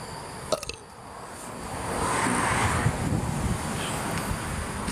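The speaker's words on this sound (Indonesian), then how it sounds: "Angin guys, angin." Wind gusts at night in a public park in Miri, a few brief knocks near the start giving way to a rising, rough blustery roar against the microphone that holds steady to the end.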